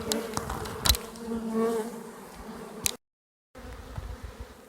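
A honey bee swarm with many queens buzzes nearby, a dense, steady hum of wings with a few sharper passes close to the ear, broken by a short silent gap.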